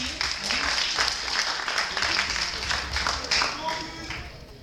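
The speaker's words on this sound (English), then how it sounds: "Let's give him a round of applause." Audience applause for a participant at an industrial engineering talk, a steady, busy clatter of hands with voices mixed in beneath it.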